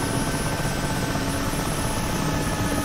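A helicopter gunship in the combat flight game DCS, a steady droning rotor and engine hum that stays level and fairly loud without pause.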